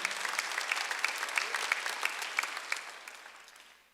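A congregation claps steadily in sustained applause during a Korean church Sunday service, even and moderately loud, gradually fading away toward the end.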